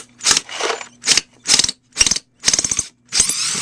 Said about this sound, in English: It makes a difference when you're driving screws into the wood